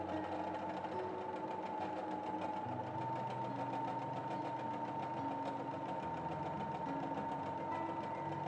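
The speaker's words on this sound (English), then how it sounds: "Then sew the bottom edges, make sure the seams are matching." A sewing machine stitches the bottom edges of scrunchie fabric, running as a continuous close buzzing whir with steady fast needle rhythm and slight pitch shifts.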